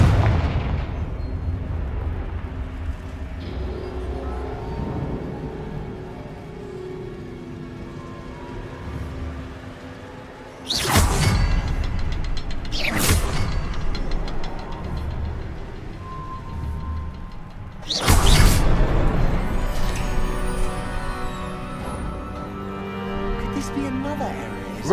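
The Confringo blast spell goes off in Hogwarts Legacy, giving several sharp, loud explosive bursts amid ambient game music and effects, with a character speaking between them.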